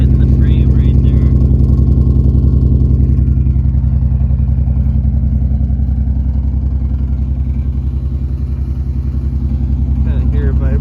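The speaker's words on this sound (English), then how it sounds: "Could just be like retarded or advanced and it's not burning nice. Gotta fix the exhaust." Toyota Supra turbo engine idling with a loose exhaust knocking against the frame, a steady loud low throb with a rapid rattling pulse throughout, and people talking briefly over it near the start and end.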